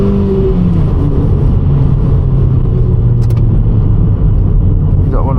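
A Toyota car accelerates hard in second gear, heard from inside the cabin as a loud, continuous engine drone whose pitch rises gradually throughout.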